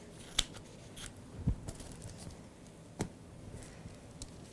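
Scissors trim a fiberglass support strip to length, a few crisp snips and clicks scattered over quiet background handling, close but fairly soft.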